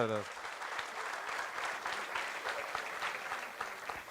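A comedy show audience breaks into applause, a dense round of clapping at moderate distance that carries on steadily after a brief voice at the start.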